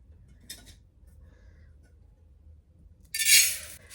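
Dry uncooked rice poured into a juicer jar makes a short, bright rattling hiss near the end, preceded by a faint brief clink in an otherwise quiet room.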